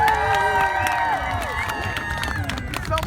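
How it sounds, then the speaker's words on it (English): An outdoor street crowd on New Year's Eve in Boston cheers and claps for a young street performer, with loud shouts and whoops near the start, then scattered clapping and chatter as it settles. "Everyone give them a clap, people."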